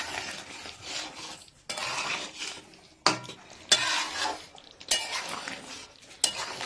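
Chicken kasa being stirred with garam masala in a pan, with repeated scraping and clinking bursts of a spoon against metal, separated by brief pauses and a soft sizzle underneath.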